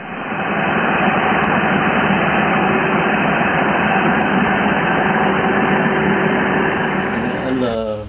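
Diesel electricity generators run loud and nonstop in a steady, droning engine roar with harsh broadband noise, recorded close up on a phone.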